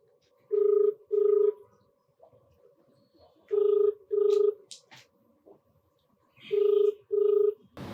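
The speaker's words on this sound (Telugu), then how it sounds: "నేను ఫోన్ కాల్ కలుపుతాను." A telephone call rings on the line in three pairs of loud, steady electronic ring tones with short pauses between them. Faint voices murmur in the gaps.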